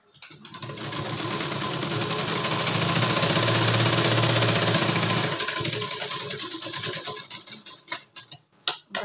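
Sewing machine running a continuous fast seam on a shawl collar blouse, a loud steady whirring rattle for about five seconds that slows, then stops with a few separate clicks and short stitches at the end.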